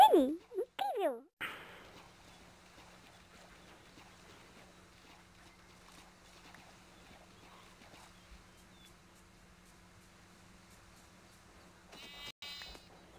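Sheep bleats from the video game Minecraft: two or three loud, wavering cries right at the start, then a long stretch of quiet low hum, with a brief buzzy burst near the end.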